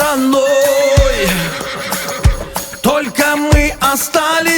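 A black horse neighs in a whinnying cry over a Don Cossack-style song about a horse, mixed loudly with singing and instrumental music throughout.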